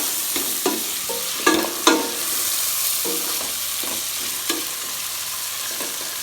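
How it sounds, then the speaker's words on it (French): Meat fries in olive oil in a pan, a steady close sizzle broken by several sharp scraping clacks as it is stirred and turned, no voices. "je laisse frire ma viande, la faisant tourner pour que ça ne brûle pas"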